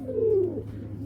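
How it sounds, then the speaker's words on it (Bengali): A pair of old-breed Giribaz pigeons, one giving a single close, low, descending coo lasting about half a second over a faint background hum. "এই যে এক জোড়া কবুতর দেখাইতেছি"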